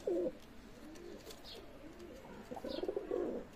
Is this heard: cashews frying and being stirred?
no